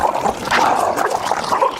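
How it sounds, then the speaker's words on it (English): Dogs fighting, giving a steady run of short yips, whimpers and strained barks at close range, with no voices over them. "All right, my dog's got into a fight."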